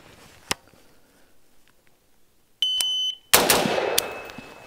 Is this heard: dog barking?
no